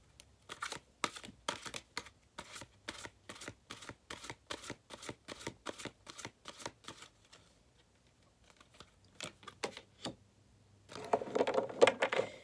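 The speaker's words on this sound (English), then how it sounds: "I'm just going to draw a couple astrology cards for you." Astrology cards drawn from a deck during a tarot reading make a steady series of quick, close, crisp flicks and snaps, pausing briefly before a final burst of shuffling.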